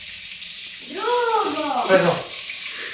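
Tap water running with a constant hissing rush, and a voice calls out briefly over it partway through.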